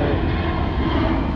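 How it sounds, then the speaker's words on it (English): A broad, steady roar of a jet airplane passing overhead above the Courtney Campbell Causeway, loud and continuous with no breaks. "there goes a plane right there"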